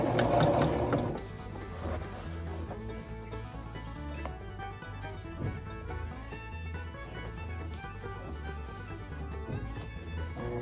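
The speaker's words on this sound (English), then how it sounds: "I'm going to sew directly right on this seam here" A sewing machine stitches a patch onto a pair of pants with a quick, steady mechanical chatter, louder at first and then running evenly near the microphone for about ten seconds.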